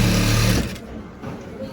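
A sewing machine runs briefly while stitching a waistcoat, a close whirring buzz that stops after about half a second, followed by quiet room sound.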